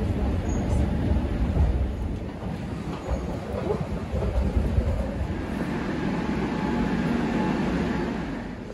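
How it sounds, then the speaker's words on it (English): A low, steady rumble of a tram in Madrid rolls along with broadband noise, holding fairly constant as it pulls away, with no voices. "That tram just leaving."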